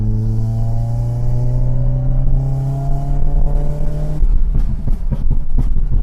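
A BMW E30 with a swapped M44 engine and no exhaust fitted revs up in rising sweeps, then drops into a rough, popping idle with sharp crackles. The sound is loud and close.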